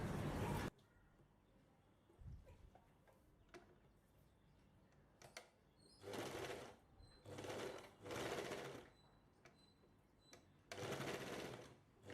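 A sewing machine stitching blouse lining runs in several short bursts of rapid mechanical stitching, separated by quiet pauses with small handling clicks, close and clear.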